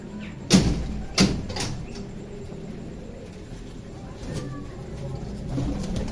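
Pigeons on a rooftop feeding on grain, with low cooing and rustling close by, two sharp flaps or knocks early on, and a murmuring background.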